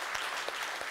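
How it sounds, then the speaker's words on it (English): A church congregation applauding a World War II veteran, a dense burst of hand claps filling a brief moment in a large room. "We applaud you, Mr. Beer."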